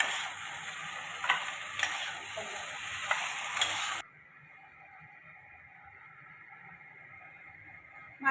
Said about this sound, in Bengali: মাছের তেলে মাছ ভাজা।